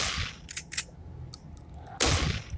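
Gunfire in the zombie horror video game Zombie Evil Horror 4, a few sharp bursty shots, one at the start and a louder one near the end, with brief clicks between.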